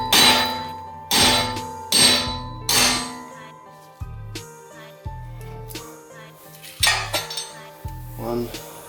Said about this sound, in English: just hammer these.